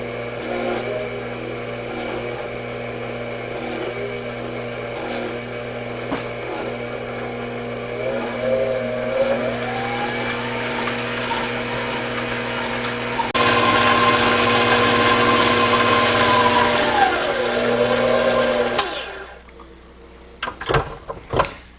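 An electric mixer whipping carrot cake batter in a home kitchen, a steady whirring motor drone that shifts pitch as the speed changes, growing louder before cutting off, followed by a few clicks.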